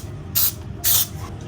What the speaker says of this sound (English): I'm gonna go ahead and put some of my baking spray in my pan and get it nice and greased up.